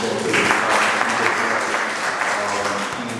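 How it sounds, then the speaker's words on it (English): An audience applauds for Robert Angie, an activist and mayoral candidate, at an evening community event on hyper-incarceration; steady, dense clapping fills the space, with faint speech-like tones underneath. "Just give a round of applause for him"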